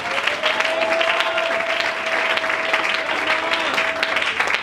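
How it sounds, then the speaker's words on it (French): A church congregation applauds loudly during a prayer service, sustained dense clapping from many hands with a faint sung or shouted tone running underneath. "Acclamons très fort pour le Seigneur."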